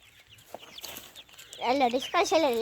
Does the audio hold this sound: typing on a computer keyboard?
no